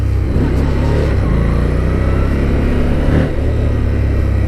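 A Harley-Davidson Street Rod 750 motorcycle engine drones loudly and steadily as the bike accelerates, with a constant rumbling tone close by and no talk.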